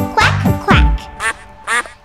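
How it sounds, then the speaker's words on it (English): Cartoon-style duck quacks from a children's animal dance song, about five loud, close, nasal quacks in a quick uneven rhythm. "Little duck, quack, quack."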